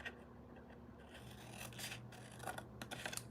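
Scissors snipping through paper pieces during a stamping craft session, a faint, soft rasping cut with light scraping over a steady low room hum, heard alone without talk.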